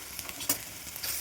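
Masala paste for fish curry frying in a pan while being stirred, a faint hiss with a couple of soft spoon scrapes over a brief moment.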